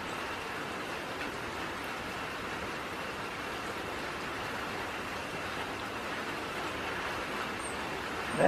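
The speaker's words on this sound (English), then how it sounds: "Yesterday, I didn't dream it would be raining today." Steady rain falling outdoors as a constant, even hiss, moderately loud, with no talking and a brief louder sound right at the end.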